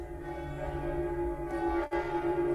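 Large, cold-sounding bells ring in an experimental sound piece, sustained tones layered and overlapping in a steady resonant wash with a brief dropout near the end.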